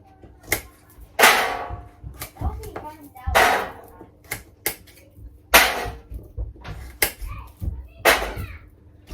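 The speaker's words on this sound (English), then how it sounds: "I'm just going to kind of chop them chunkier" A kitchen knife chops sweet potatoes and carrots into chunky pieces on a board, giving sharp, separate cuts at an uneven pace with brief pauses, heard close up with faint background noise.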